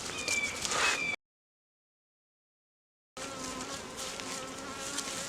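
Honey bees buzz steadily in an opened hive during a queen cell check, a dense close hum that breaks off into about two seconds of silence before returning just as loud.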